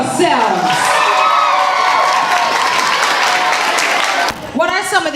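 A school assembly of students clapping and cheering loudly, with whoops and shouts over steady applause that carries on throughout, a brief dip near the end, then more yelling.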